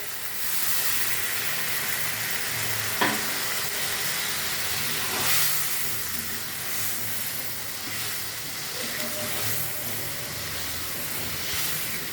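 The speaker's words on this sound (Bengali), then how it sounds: "এবার আমি এটাকে জল দিয়ে মিশিয়ে নেবো, জল অ্যাড করে দেবো।" Water poured onto fried spice masala in a pan for an egg and potato curry, a broad steady hiss and steam with a couple of brief clinks, continuous throughout.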